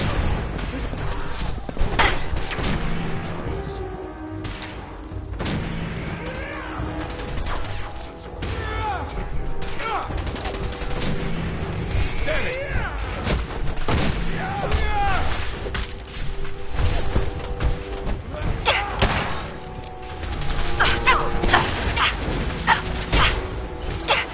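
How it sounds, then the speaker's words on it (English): Gunfire in Fallout 4 comes as rapid cracks and clattering bursts of shots, loud and close, mixed with crashes and impacts and occasional voice-like sounds over a dense, constant din. "Opening fire."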